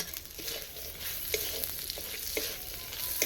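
Cashews, raisins and nuts frying in oil, a soft steady sizzle with scattered crackles and small pops throughout, fairly quiet and heard on its own.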